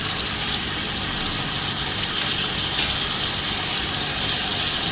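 Excess water from boiled goat head soup is poured off, a loud, continuous gushing splash that holds steady throughout with no voices.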